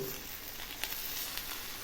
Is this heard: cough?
no